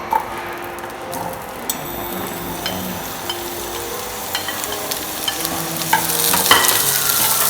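Peppers are stir-fried in a pan with a steady sizzle, while a utensil scrapes and clicks against the pan at an irregular rhythm, growing slightly louder toward the end.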